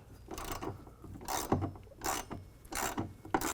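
Wrench tightening a running board bolt on a Jeep Gladiator rocker panel, close, rhythmic ratcheting strokes in about six short rasping bursts with brief pauses between.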